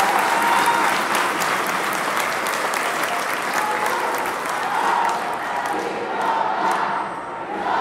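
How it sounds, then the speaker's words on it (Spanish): A crowd at a municipal government report event in Tecamachalco gives loud applause for local athletes, dense continuous clapping with some cheering mixed in, gradually easing off toward the end. "Un muy fuerte aplauso para los deportistas de nuestro municipio."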